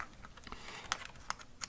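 Typing on a computer keyboard at a desk: a faint run of light, irregular key clicks with a few sharper taps, heard alone without talk.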